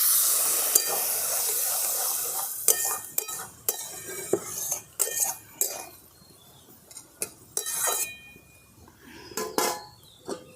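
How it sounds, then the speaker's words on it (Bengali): A spoon stirs and scrapes through catfish curry with eggplant and a splash of water in a pan, giving repeated clinks and metallic scrapes in an irregular rhythm over a soft background hiss, close and fairly clear. "এরপর একটু জল দিয়ে ভালো করে কষিয়ে নিচ্ছি।"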